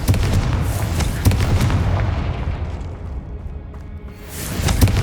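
Spell explosions in the Hogwarts Legacy video game boom and crackle in repeated heavy bursts, with loud impacts at the start and end and a rumbling lull between.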